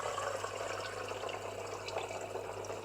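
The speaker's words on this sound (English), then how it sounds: "Let's run some cold water through that." Cold tap water runs into a pot, a steady, soft, continuous hiss of flowing water with no talking.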